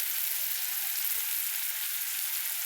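Onion frying in a pan with ground spices, turmeric and red chilli powder, a steady bright close sizzle that holds unbroken throughout with no voices.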